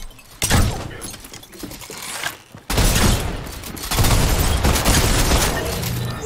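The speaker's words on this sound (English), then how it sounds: "Machine gun, machine gun." Machine gun fire in Fortnite erupts in loud, dense bursts, one short volley, then a sustained burst with crackling breaks and impacts running on to the end.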